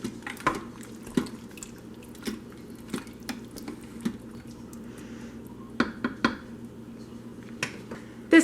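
Sour cream is stirred into beef stroganoff in an Instant Pot on sauté, giving soft wet squelches and scattered light spoon clicks against the metal pot, faint and intermittent.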